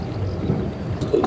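Thunderstorm in the Danube gorges, with a low rumble and wind-buffeted noise filling the short stretch and a couple of brief louder cracks near the end, no voices.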